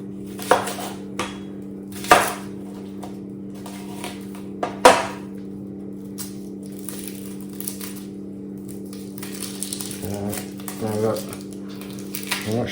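A knife cuts an onion in half on a board, giving a few irregular knocks and thuds over a steady electrical hum, with quieter scraping and handling noises in between.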